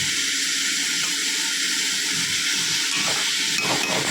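Food sautés with a little salt in a pan as part of a seafood feast, giving a continuous close hiss and sizzle that stays even for several seconds, with no talking over it.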